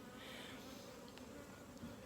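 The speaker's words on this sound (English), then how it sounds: "We have biting flies that are out here that are biting today." Biting flies buzzing outdoors, a faint, steady insect drone close by with no voices, holding continuously throughout.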